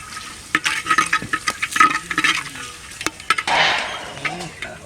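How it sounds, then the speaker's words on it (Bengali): Bay leaves, dried red chillies and whole garam masala spices frying in hot oil in a clay pot, an intermittent close sizzle broken by spoon clinks and stirring scrapes, with a louder crackling burst toward the end. "ফোড়নে দিয়েছি তেজপাতা, শুকনো লঙ্কা আর গোটা গরম মশলা দিয়ে দাও।"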